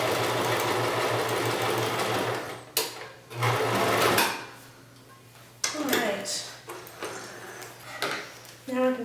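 A sewing machine stitches a bag made from repurposed jeans, running in steady bursts separated by pauses and small handling clicks. Close by, with a person talking briefly between runs.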